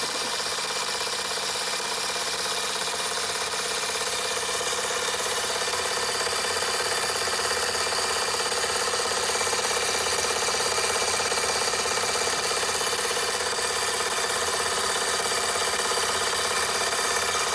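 A Fleischmann 135/2 live steam model locomotive, spirit-burner fired, runs with a steady dense hiss and fine rapid chuffing texture, loud and continuous throughout with no talk.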